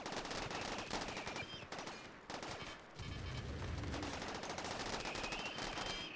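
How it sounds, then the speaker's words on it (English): Turrets firing in a Rimworld colony fight against zombies, rapid overlapping bursts of gunfire in dense volleys with a brief lull midway, loud and continuous with no talking. "let's see how well all of these turrets work now"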